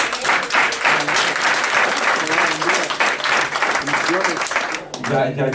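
Loud, sustained applause from a church congregation for young people headed to Honduras, a dense clapping roar that stays strong throughout, with voices calling out faintly beneath it.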